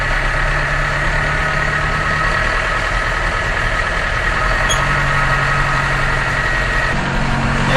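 An auger engine running, a steady loud diesel-like drone with deep low rumble and a constant mid hum, unchanging and close throughout, without any voices.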